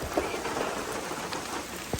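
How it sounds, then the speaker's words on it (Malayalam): Heavy rain pours steadily in a forest, a dense, even hiss of drops on leaves and ground that fills the whole moment, with no voices. "നല്ല മഴയാണ്"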